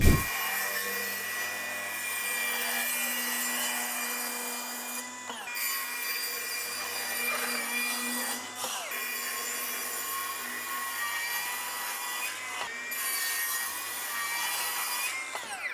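A cordless circular saw whines steadily through wood for most of the stretch, with brief dips where the blade eases off, loud and close throughout.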